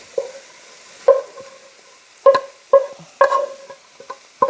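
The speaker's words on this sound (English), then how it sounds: "now I'm going to add my cooked seasoned brown rice to the party" Cooked seasoned brown rice is stirred into a vegetable biryani in a pot, with a series of separate scraping and clanking strokes of a spoon against the pot, fairly close and spaced irregularly, with no talking.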